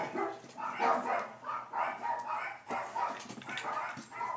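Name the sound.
dogs barking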